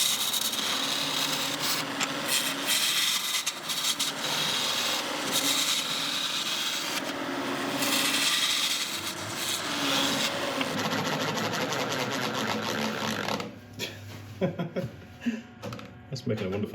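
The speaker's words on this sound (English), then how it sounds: "I think it's the two polished surfaces rubbing against each other just slightly." A continuous rough rubbing and whirring from a turning wood lathe, two polished surfaces of a resin piece rubbing slightly, with a scraping texture that shifts and thins near the end, and a voice talking over it.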